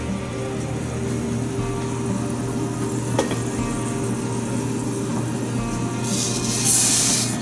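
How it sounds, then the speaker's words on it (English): Short grain rice poured into a pot of hot oil for basanti pulao, then stirred, giving a steady close sizzle with soft scraping and a brighter hiss near the end. "And we'll add the rice."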